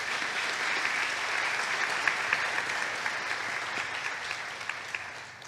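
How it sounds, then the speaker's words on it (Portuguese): A church congregation claps during a Portuguese-language service, a thick, continuous roar of applause from a large crowd with a few sharper individual claps popping out, tapering off at the end. "Aplauda o Senhor Jesus."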